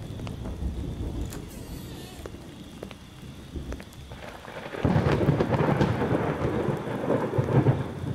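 Steady rain with rolling thunder in a horror video game, a continuous wash of rainfall that swells louder midway with low rumbles beneath, close and enveloping, no talk over it.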